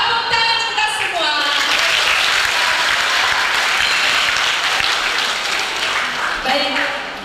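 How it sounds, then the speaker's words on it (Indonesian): Loud, sustained audience applause fills a hall at a Catholic children's jamboree session, a dense wall of clapping that holds steady for several seconds before tapering slightly at the end. "Tepuk tangan kita semua."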